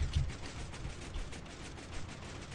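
A Minecraft zero-tick bamboo farm running on a server, giving a dense, continuous rapid clatter of overlapping crackling bursts, loud and steady throughout with no talking.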